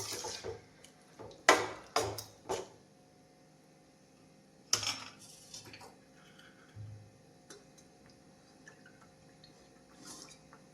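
Spiced dried peas being stirred in a cooking pot give a handful of sharp scraping and clinking strikes, clustered early and again midway, then quieter faint clatter.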